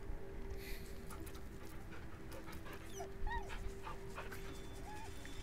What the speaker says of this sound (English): Is he just barking for you, or do you hear him as well?